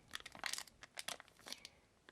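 A small packet of powdered sugar is handled up close in a quiet kitchen, giving several quick, soft crinkling bursts of plastic that cluster irregularly and then taper off into near silence.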